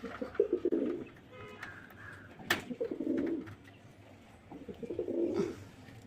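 Pigeons with a chick in a coop give soft, low cooing calls in several separate bouts, fairly close and gentle, with faint ambient noise and no talk.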